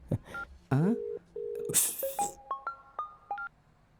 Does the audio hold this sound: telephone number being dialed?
yes